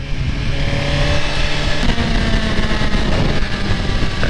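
Suzuki GSX-R sportbike running hard on a mountain road alongside a Lamborghini Aventador, a loud continuous engine roar with wind rush, rising slightly in pitch, heard from on the bike.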